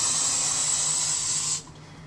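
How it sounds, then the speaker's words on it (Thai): A continuous close aerosol spray hisses steadily for about a second and a half, then stops, leaving faint room noise. "และนี่ก็กดสเปรย์แค่ประมาณ1/3เท่านั้น"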